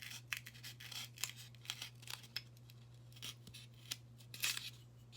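Scissors snip shapes out of a styrofoam cup in a string of short, crisp cuts with a squeaky crunch, each cut separated by brief pauses, heard up close and fairly quiet.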